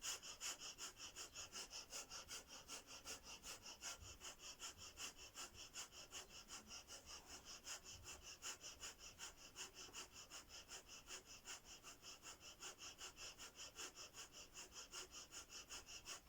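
Rapid, forceful rhythmic breathing of a breath-of-fire yoga exercise, sharp exhalations pulsing evenly about three times per second, steady throughout and quietly recorded without speech.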